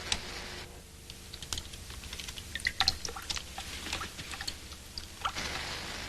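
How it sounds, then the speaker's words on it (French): Water drips and trickles in a building where the supply was cut off years ago, giving scattered, faint, irregular tapping drops over a quiet background with no voices. "Horton, t'entends pas couler de l'eau?"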